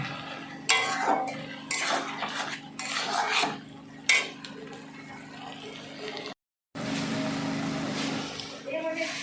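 Chhana curry with chopped coriander is stirred in a pan. A spoon gives repeated clattering scrapes and knocks against the metal in irregular bursts, close and clear, with a brief dropout near the end.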